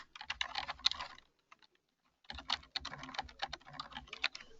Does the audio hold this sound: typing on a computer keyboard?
yes